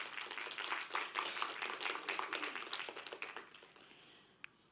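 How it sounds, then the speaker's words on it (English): An audience applauds faculty of medicine staff at a dean's mandate assembly, a dense patter of many hands clapping that slowly thins out, with one sharp clap near the end. "so a round of applause for them as well"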